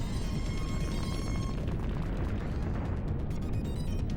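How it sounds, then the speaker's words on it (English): An explosion inside a shaking tower in the DRAMAtical Murder video game, heard as a loud, sustained rumbling roar with crackling debris bursts that fill the scene without any talking. "The sound of an explosion resounds from inside the shaking tower."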